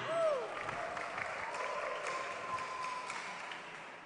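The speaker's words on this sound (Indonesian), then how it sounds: "Beri tepuk tangan yang meriah." Faint, distant clapping from a crowd at a company Christmas celebration, heard thinly through a hall with a brief electronic tone or feedback whistle early on and a sustained hum running underneath.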